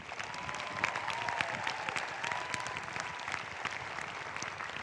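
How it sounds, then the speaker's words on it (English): Applause for the graduates of the Class of 2019 fills a commencement ceremony, a steady, fairly distant crowd clapping that holds evenly for several seconds with no voices over it. "How about a big round of applause for our graduates?"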